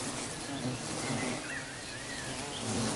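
A swarm of Assam killer bees in the Himalayan foothills fills the air with a dense, continuous buzzing drone, steady and close throughout.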